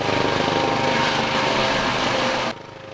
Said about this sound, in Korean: 어선 침몰 사고 현장에 헬기가 투입됐습니다.